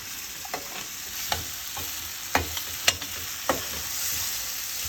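Ginger, garlic and moong sprouts sizzle in a hot pan as a utensil stirs them, leaving a steady frying hiss broken by about eight close, sharp scrapes and clacks at an uneven pace.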